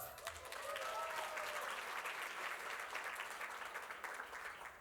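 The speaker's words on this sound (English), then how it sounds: "round of applause" Sustained audience applause fills a gala hall in Kigali, Rwanda, a steady dense patter of many hands clapping at moderate volume throughout, with no talking over it.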